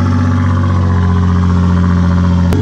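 Car engine, apparently an Infiniti G35 with a previously damaged exhaust, idling loudly and steadily right after a cold start, with a brief click near the end and no voices.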